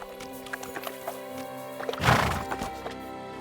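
A horse whinnies in the Kingdom Come Deliverance II video game, one loud neigh near the middle, set against soft background music and faint scattered clicks.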